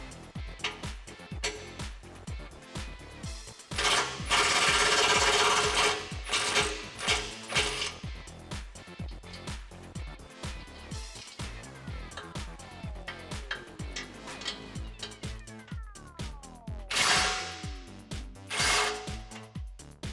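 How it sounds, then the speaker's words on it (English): Ratcheting 18mm socket wrench removing the nuts from the back of a Jeep Wrangler JK front bumper crash bar, with rapid mechanical clicks, a loud sustained burst of tool noise, and repeated close-up metallic ratcheting. "with your 18mm socket, remove the nuts on the back of your crash bar"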